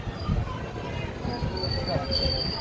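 A train pulls out of Ambari Falakata station toward Belakoba, rolling slowly along the rails with a low continuous rumble, faint high wheel squeals and muffled voices in the carriage.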